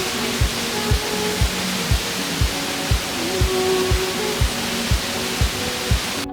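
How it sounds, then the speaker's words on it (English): Broad, steady roar of Moose Falls in Yellowstone National Park fills the clip, with regular low thumps about twice a second riding underneath. "this beautiful waterfall called Moose Falls"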